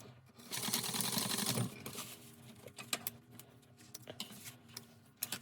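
A sewing machine stitching carpet fabric, opening with a fast, loud whir of stitching, then quieter intermittent ticks and clicks of the mechanism as it slows and stops.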